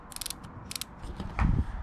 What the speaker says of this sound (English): this little knob here. This is a lumbar support. So when I turn this,